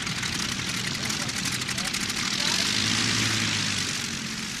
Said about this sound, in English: a full squadron of Junkers transport planes to airlift the Spanish Army of Africa from